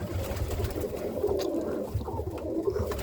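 Several Birmingham Roller pigeons cooing nearby in low, throaty murmurs that overlap and repeat steadily.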